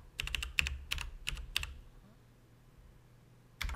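Quick bursts of keystrokes clatter on a computer keyboard, close and clear, then a pause and another short burst of typing starts near the end.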